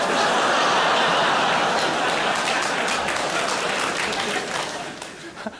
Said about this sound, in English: a child has applauded that very loudly